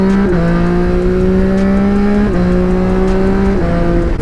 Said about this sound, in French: C'est vraiment le moteur CP3 couplé au shifter, couplé à la ligne acra qui me fait kiffer.